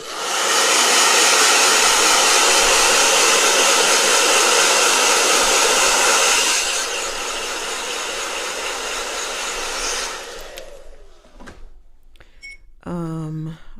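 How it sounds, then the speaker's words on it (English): A hair dryer blows loudly and steadily for about ten seconds, drops slightly in pitch partway through, then shuts off before a brief voice. "Blow dryer"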